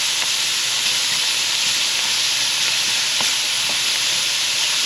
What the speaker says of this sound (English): I will be frying my veggies in here